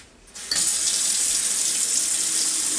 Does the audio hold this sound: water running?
yes